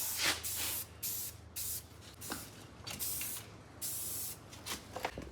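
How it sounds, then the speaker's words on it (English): Short bursts of spray paint hiss as flat paint is applied to a truck bumper and wheels, several separate passes of a second or so each with brief pauses between, fairly close and moderate in level. "we're gonna be spraying the flat on there"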